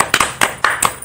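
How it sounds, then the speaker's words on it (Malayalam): A few children clap for the winner of a stone-collecting game, five or so sharp, uneven claps spread across about a second, close and distinct with gaps between them. "അപ്പൊ നമുക്ക് എല്ലാവർക്കും ഒരു ക്ലാപ്പ് കൊടുക്കാം അല്ലെ അനക്സിന്"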